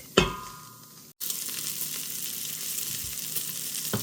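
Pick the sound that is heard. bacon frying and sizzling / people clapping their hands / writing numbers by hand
bacon frying and sizzling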